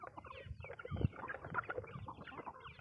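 Free-range country chickens on a farm cluck softly while pecking at feed. Quiet, close and irregular, with one brief louder thump midway.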